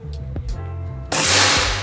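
A single sharp, loud air rifle shot bursts out after a quiet moment, followed by a lingering hiss.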